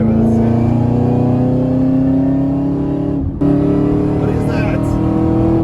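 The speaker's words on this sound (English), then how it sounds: "All right, fourth gear pull on the highway." A tuned 900 HP 2013 Chevy Camaro ZL1 with a manual gearbox pulls hard in fourth gear on a highway, its engine drone loud and rising steadily in pitch, with a brief dip near the middle before the roar resumes.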